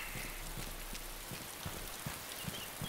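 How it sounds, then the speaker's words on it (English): Rain in the video game DayZ, a constant hiss of falling rain with soft irregular drops and taps landing on surfaces, heard steadily throughout with no voices. "It's generally what happens when you stand out in the rain."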